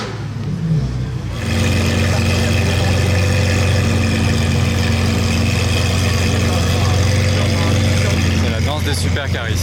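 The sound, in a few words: convoy of supercars, Ferrari 812 SVJ and 812 GTS Novitec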